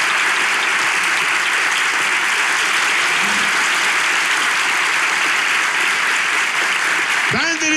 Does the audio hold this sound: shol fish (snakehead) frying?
no